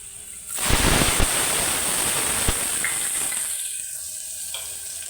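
Garlic dropped into hot oil in a pan bursts into a loud, close sizzle that settles into steady frying, then quietens toward the end, with no talk.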